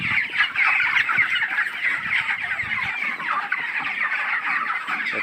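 A flock of chickens clucks and chirps continuously nearby, a busy overlapping chatter of poultry with no voices.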